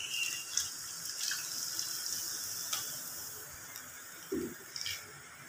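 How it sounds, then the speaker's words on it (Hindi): Water being poured into vermicelli cooking in a pot, a soft trickling splash over a faint background hiss, with a brief low thump near the end and no talking. "थोड़ा सा पानी हम इसमें और शामिल करेंगे।"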